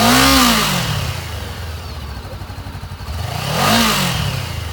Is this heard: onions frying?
no